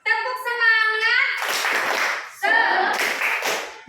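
Children give a rhythmic clapping cheer in a classroom, bursts of hand claps following a short spoken lead-in.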